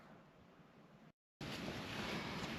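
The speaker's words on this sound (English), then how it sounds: "Just had a gust of wind come around the corner." Outdoors by a building, wind buffets the microphone as a steady broadband rumble, cuts out briefly, then returns as a stronger gust blasting across the mic.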